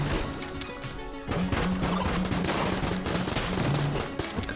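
Dense video game gunfire from Enter the Gungeon, a continuous barrage of crackling shots and impacts with bursts of rapid repeated blasts and a tonal pulsing underneath, loud and close throughout.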